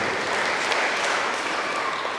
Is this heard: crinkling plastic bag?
no